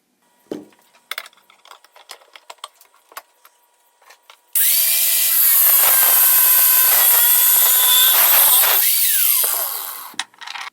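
Power tool cutting through steel rebar to make rods, a loud continuous high-pitched grinding whine lasting several seconds before stopping, preceded by scattered clicks and handling knocks.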